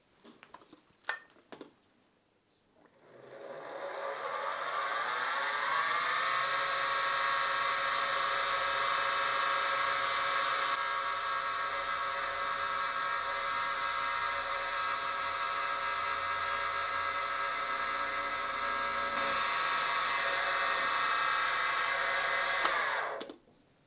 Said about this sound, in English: now all I need to do on this end is to drill an oil hole half an inch deep